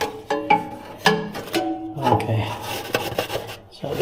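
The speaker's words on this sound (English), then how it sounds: "Okay, so I'll get this scraped off." A metal scraper rasps over the greasy, oily inner walls of a Lone Star Grillz pellet smoker, a series of close, uneven scraping strokes with short pauses between them.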